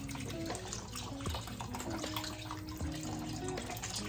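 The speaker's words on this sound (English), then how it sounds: "Water's going in. Liquids are going in." Water pours steadily into a pot of Zuppa Toscana soup, a continuous watery rush with faint splashing throughout, and no talking over it.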